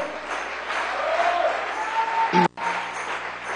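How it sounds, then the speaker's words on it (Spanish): A church congregation claps during a Spanish-language sermon, a broad, steady round of applause with a faint tonal whine running through it and a brief mechanical clunk that cuts out near the end. "Dale un aplauso al Señor, hermano."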